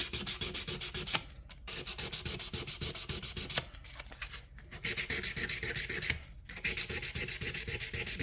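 Fresh 400-grit sandpaper rubbed in vertical strokes across guitar frets during a refret polish, a steady rhythmic rasping of fast back-and-forth strokes, close and loud, broken by a few short pauses.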